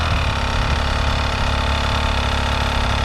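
A dirt bike engine idling close by during a clutch-control drill, with a steady, loud mid-pitched drone that holds at a low RPM throughout.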